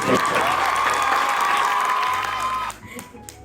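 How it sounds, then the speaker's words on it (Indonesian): An audience at an Indonesian panel talk on the Merdeka curriculum and social media claps and cheers for two guests, loud and full for most of the span before cutting off sharply near the end, with some voices mixed in. "Beri tepuk tangan dulu dong untuk kedua orang ini"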